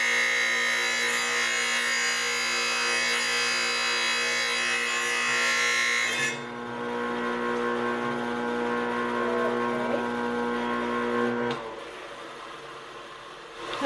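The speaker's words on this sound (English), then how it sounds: "Is really just not wanting to cut with the wet saw." A wet saw grinds into a natural flax composite panel, a steady loud whine and hum holding for about six seconds, then a lighter running drone that continues before cutting off near the end.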